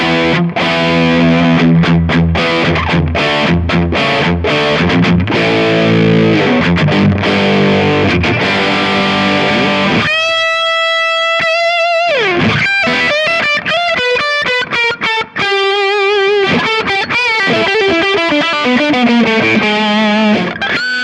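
Distorted electric guitar through a Kemper Profiling Amp with drive and tone both at 5 plays a dense, loud riff of chugging chords, then shifts into sustained ringing notes and bends, continuous and alone without talk.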